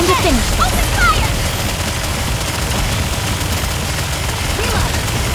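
Rapid gunfire from an Aegis cannon in a video game, a dense rattling barrage with booming impacts that stays loud and steady throughout, with voices mixed in.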